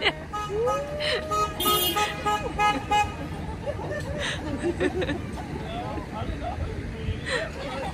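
Cars in a neighborhood birthday parade sound their horns in repeated toots and longer honks, moderately close, over engine rumble and a crowd of cheering, chattering voices.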